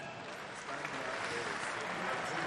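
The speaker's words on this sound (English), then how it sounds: "Des applaudissements, s'il vous plaît." Applause from a ceremony audience after the CHAN 2020 official song at the draw ceremony, a sustained wash of clapping that grows slightly louder toward the end.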